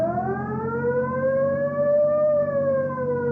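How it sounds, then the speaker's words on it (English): Police car siren from a 1950s Dragnet radio drama wails steadily with a slow rising and falling pitch, loud and close, with no talk over it. "You want to hit the siren?"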